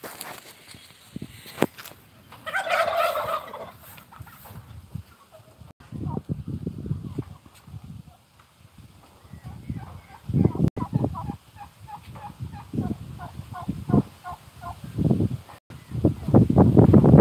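Turkeys on a farm in Chiang Rai, Thailand, gobble in repeated bursts at moderate distance, with footsteps and rustling around them and people talking intermittently.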